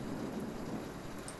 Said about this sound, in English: this was a rainstorm that I recorded just late at night